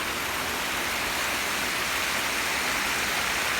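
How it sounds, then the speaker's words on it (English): Waterfall at a 9/11 memorial of a fire department in Mt. Sinai, New York, heard up close as a loud, steady, hissing rush of falling water with no voices. "we got a waterfall on the right here"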